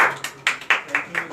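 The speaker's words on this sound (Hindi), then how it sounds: "जोर से तालियां।" Audience clapping at an award and honoring ceremony, heard as a few loud separate claps in an irregular rhythm.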